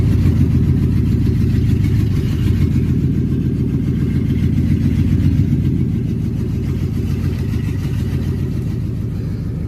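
An engine idles roughly with a misfire, giving a loud, low, uneven chugging that runs continuously and fades slightly toward the end, with no voices.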